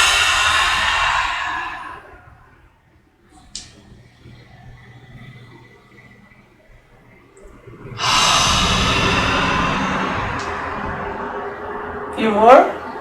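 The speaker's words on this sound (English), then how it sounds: "as you exhale, make a little sound like you're fogging up a mirror" A forceful exhale through the mouth with a soft, breathy fogging-a-mirror sound during a morning breathing practice, heard as two long hushed breaths with quieter breathing between them and a brief sharper burst near the end.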